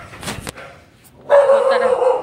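Dogs outdoors in a yard give a couple of short barks or yips early on, followed by a louder sustained whining, yelping vocalization that continues to the end.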